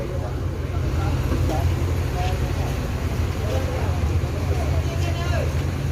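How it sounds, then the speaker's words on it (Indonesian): An ANS bus bound for Batu Sangkar and Payakumbuh idles with a deep, steady engine rumble at a busy bus stop, with crowd babble and passing traffic mixed in. "Kalau bus ANS yang ini menuju Batu Sangkar dan Payakumbuh."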